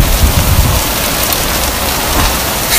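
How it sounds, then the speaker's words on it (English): Hail coming down hard outdoors, a dense, steady hiss and patter of hailstones striking surfaces, loud and close with no break for the whole stretch. "It's like fully hailing now."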